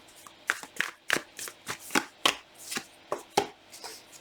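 Tarot cards are shuffled with a run of sharp, rhythmic riffling snaps, close by and with no voices.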